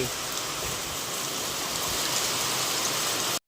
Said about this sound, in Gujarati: બહુ એટલે અતિશય ભારે વરસાદ